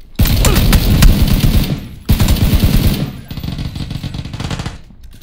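Rapid automatic gunfire in a video game, loud sustained bursts of machine-gun fire with a brief break midway, close and dominant throughout.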